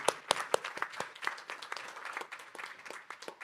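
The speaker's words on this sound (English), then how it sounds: "I really hope you can give Raja Khoduri a much larger round of applause." An audience at a RISC-V technology conference panel claps, opening with a few sharp, close claps that settle into a lighter, scattered round of applause.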